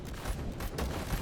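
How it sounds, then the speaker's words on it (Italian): Distant gunfire in the survival shooter Zero Sievert: muffled crackling shots and bursts rolling in from far away over a dense, rumbling game background, with no voices. "Gli spari in lontananza"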